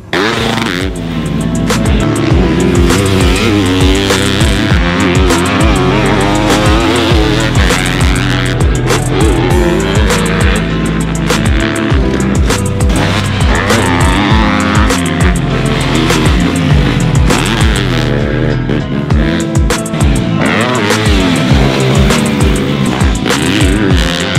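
Yamaha YZ250F dirt bike ridden hard, a loud, close four-stroke engine revving up and down continuously with rapid throttle blips and gear changes, no talk.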